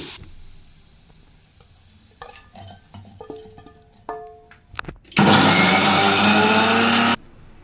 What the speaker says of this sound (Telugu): ఇది ఇప్పుడు ఫైన్ పేస్ట్లా తయారు చేసుకోవాలి.